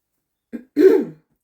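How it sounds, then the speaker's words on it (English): A single close throat clearing, a short rough rasp after a brief lead-in sound, in otherwise quiet surroundings. "Clear my throat."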